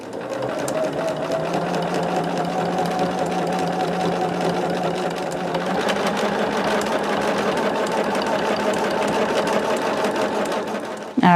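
Sewing machine running continuously as it stitches fabric scraps with white thread, a steady loud mechanical whir and rapid needle clatter, close up and without talking.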